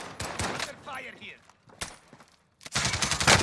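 Pistol gunfire rings out in the Warzone video game as sharp, separate shots mixed with a burst of rapid firing, loud and close, with voices talking between them.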